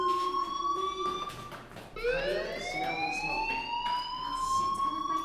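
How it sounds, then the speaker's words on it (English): A school fire alarm in the video game Life Is Strange blares as a steady, loud electronic tone with rising harmonic sweeps. It cuts briefly near the two-second mark, then restarts and continues alone without talk. "Hey, do you hear that fire alarm? That means you should be outside."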